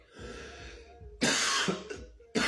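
One person coughs close to the microphone, a short throaty burst followed by a louder harsh cough and another at the end, with quiet breathy pauses in between.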